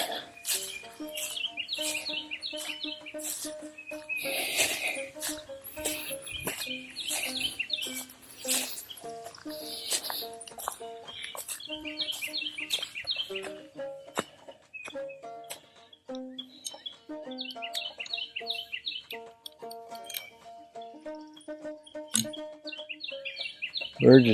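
Birds sing and chirp steadily throughout a lakeside walk, with overlapping calls and trills from several birds at moderate distance, rising and falling in busy bursts.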